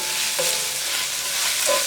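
Chopped kielbasa sausage fries in a pan, a steady broadband sizzle running throughout with a couple of brief stirring scrapes, close and fairly loud, no talking.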